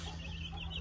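Sixty young chicks in a homemade brooder give soft, faint peeping and clucking over a steady low hum in a brief stretch, with no voices.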